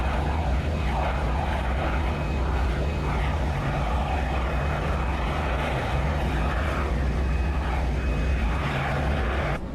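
Engines of the Boeing 747SP SOFIA flying telescope run steadily after start, a loud constant jet roar with a low rumble and a faint high whine, unbroken for the whole stretch.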